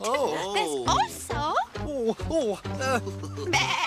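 A voice imitates a sheep bleating with several close, wavering baa calls in quick succession, mixed with brief spoken words.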